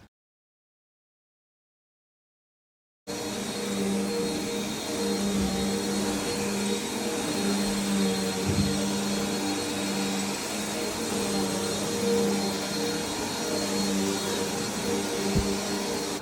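After a short silence, a vacuum cleaner starts up on carpet and runs in a loud, steady whine with a constant droning hum, with no voices.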